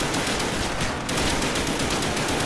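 Call of Duty Zombies on Nacht der Untoten: continuous rapid gunfire in a dense, loud unbroken stream with a brief dip, no pauses between shots.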